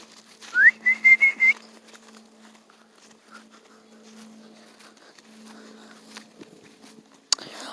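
A short whistled call rises and then holds in a few quick pulses in a cemetery, followed by near silence with faint shuffling and a sharp click at the end.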